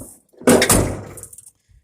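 One solid thunk of a Ford F700 truck door swinging shut, loud and close, with a short rattling tail before quiet returns.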